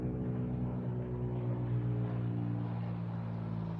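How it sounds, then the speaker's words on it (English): A helicopter passes low overhead, making a steady, droning, rotor-heavy rumble that vibrates through a house, continuous and fairly loud, with no voices. "you hear that chopper?"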